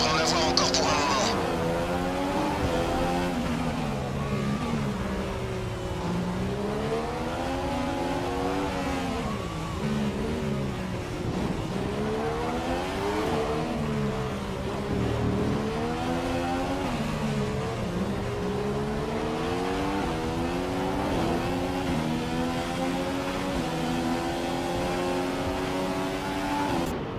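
A Formula 1 car in a racing game on the Monaco circuit, its high-pitched engine whining and rising and falling continuously through gear changes, loud and close, with talk over it.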